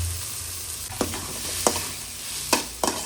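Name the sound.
frying dry red chillies and onion in a pan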